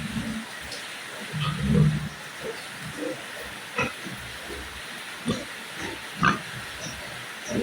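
Pigs being fed in their pen grunt and squeal in short, irregular bursts over a constant low background of farmyard noise, close to the listener.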